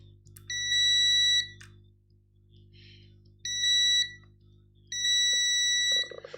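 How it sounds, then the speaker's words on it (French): Three bursts of high, clean electronic beeps come from a test module for an analog drum machine, each lasting about a second with short pauses between, loud and close over a faint low hum. "alors désolé pour les bips"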